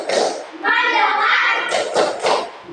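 A classroom of children claps out a rhythmic focus routine, sharp hand claps and thumps mixed with loud group chanting voices across a few seconds.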